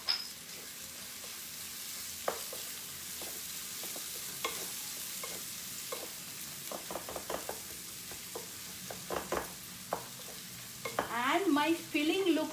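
A Bengali garam masala crepe filling sizzles in a pan while being stirred, with a steady frying hiss and repeated scraping strokes up close, louder clatter near the end.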